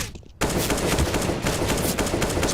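Sustained automatic AK rifle fire from Counter-Strike: Global Offensive, a dense, loud rattle of rapid shots starting abruptly and continuing without pause.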